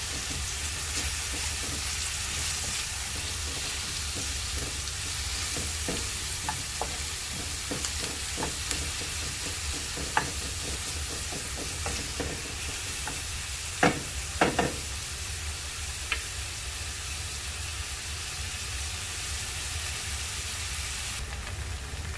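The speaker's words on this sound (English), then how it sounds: "add chopped onions, cook them till light brown" Chopped onions frying in a pan for aloo palak, a steady close sizzle with occasional light stirring scrapes and taps throughout.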